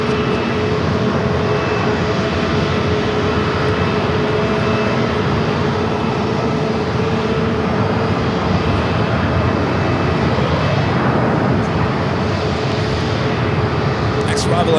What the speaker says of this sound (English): An old U.S. Airways A319, American Airlines Flight 442.